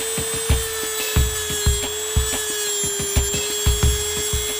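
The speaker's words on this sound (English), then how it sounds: "I felt that the Dremel tool was really necessary to get this job done" A Dremel rotary tool grinding on a brake caliper piston, with a steady high whine and a regular series of rough scraping pulses roughly every half second, close and moderately loud.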